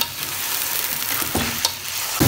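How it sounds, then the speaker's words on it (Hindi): Chicken pieces frying in ginger garlic paste in a karahi, with a steady close sizzle and a few scraping stirs of a spoon against the pan. "अब हमने इसके अंदर चिकन डाल दिया, थोड़ा सा चिकन को हिलाते हैं।"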